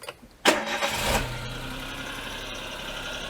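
A Daewoo Matiz car, fitted with a new idle control valve and left in neutral, cranks briefly and fires up with a loud catch, revs up for a moment, then drops back and settles into a steady, close idle.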